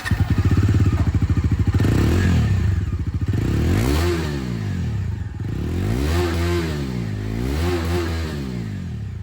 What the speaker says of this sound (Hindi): और रियर में चलते हैं और इसकी जो यहाँ पर एग्जॉस्ट साउंड है वो